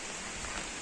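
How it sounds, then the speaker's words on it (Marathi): Monsoon rain falls during a trek up Kalavantin Durg, a steady even hiss of drops close around, with no voices. "पाऊस सुरू झालाय"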